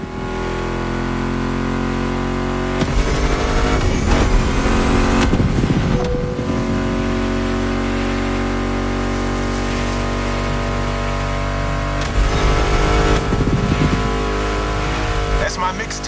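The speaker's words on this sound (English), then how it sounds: "Meshes well with the sound of the engines, you feel me?" Muscle car engines in the video game The Crew rumble steadily for the whole stretch, with louder revving surges partway through and near the end, mixed under a continuous music track.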